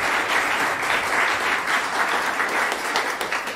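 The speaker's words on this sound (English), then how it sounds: "Another round of applause." Warm, dense applause from a concert audience after an orchestral academy performance, a full steady wash of clapping throughout.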